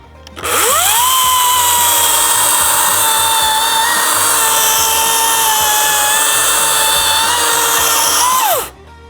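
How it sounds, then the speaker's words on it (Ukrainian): A loud Dnipro-M power saw spins up to a steady high whine and holds it for about eight seconds while cutting, then winds down abruptly. "Пилу завжди треба спочатку розганяти, потім занурювати в матеріал."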